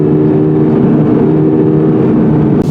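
A 2022 Subaru BRZ sports car engine drones at high revs, loud and close, holding a steady pitch for a few seconds with no talking.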